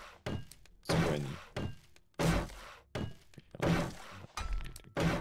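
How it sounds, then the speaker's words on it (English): In the 7 Days to Die Alpha 21 video game, zombies smash and destroy structures with repeated heavy thuds, crashes and breaking impacts. The blows come in irregular succession and sound close and loud. "They're destroying all my stuff already."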